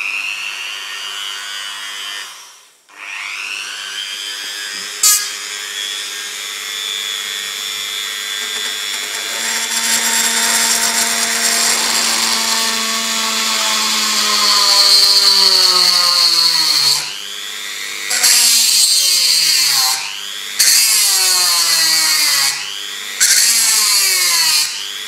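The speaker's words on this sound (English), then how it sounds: "So what we will do is fire the Dremel up," A Dremel rotary tool whines loudly as it spins up and drills a hole in a thin tin, its pitch sliding as the bit bites and eases off in several short bursts near the end.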